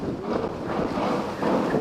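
Strong wind gusting around a pop-up tent outdoors, a heavy rushing roar buffeting the microphone that swells and eases in waves with no voices.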